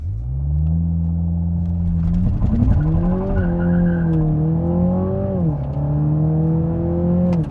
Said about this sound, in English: you can do the launch control with hitting the brakes and hitting the throttle